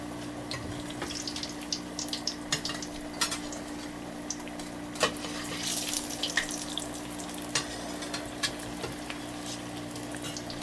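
Drumstick leaf vadai fry in hot oil with a continuous bubbling sizzle while a utensil turns them, adding scattered clicks and scrapes, close up against a steady low hum, and no voices.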